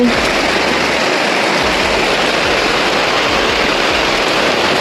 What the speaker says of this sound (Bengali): দেখো বন্ধুরা কেমন বৃষ্টি হচ্ছে